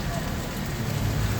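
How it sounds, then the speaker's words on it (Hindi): Steady monsoon rain falls in a continuous broadband hiss, close and even throughout with no pauses, while faint voices sit low underneath it. "बूंदों की बारिश सावन का महीना चल रहा है।"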